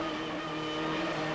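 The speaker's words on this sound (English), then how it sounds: "Now we're in car with Mike Smith in the Ford Sierra Cosworth" Onboard a 1989 Ford Sierra Cosworth touring race car, the engine drones loud and steady at high revs with a strong tonal whine, cabin noise filling the whole moment without speech.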